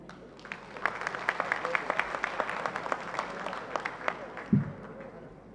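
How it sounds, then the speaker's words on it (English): Audience at a university convocation applauds graduating candidates, steady dense clapping filling the hall from start to finish with scattered sharper claps. "Let us all show our support by applauding the A candidates."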